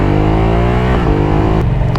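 A Yamaha R7 motorcycle revs up and pulls away, its loud engine note climbing steadily through the gears, close and continuous with no talking.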